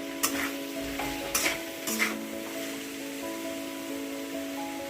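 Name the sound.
stirring tomato and coriander masala in pan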